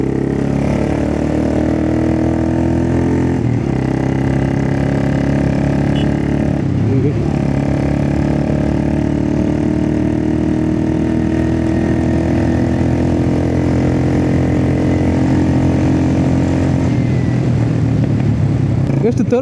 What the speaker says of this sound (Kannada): ಈಗ ಸೆಕೆಂಡಲ್ಲಿ ನಾನು ಸಡನ್ ಎಕ್ಸಿಲೇಟರ್ ಕೊಡ್ತೇನೆ.